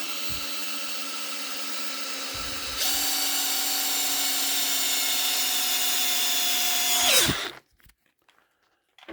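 A power drill twisting wire whirs steadily at close range, rising in pitch and speed midway, then winds down and stops, leaving near silence.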